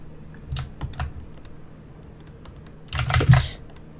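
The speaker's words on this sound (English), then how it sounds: "Sorry if my keyboard makes a lot of noise. It's mechanical. It's for gaming." Keys clatter on a mechanical gaming keyboard in two bursts, a few scattered clicks followed by a denser flurry of rapid, loud keystrokes close to the microphone.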